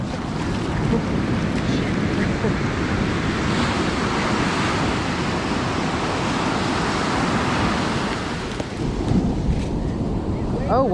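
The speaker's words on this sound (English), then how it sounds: "Those waves, that was a loud sounding wave." Loud ocean waves break on a beach in a steady, broad roar mixed with wind buffeting the microphone, and a swell of surf rises near the end.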